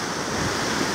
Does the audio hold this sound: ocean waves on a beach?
yes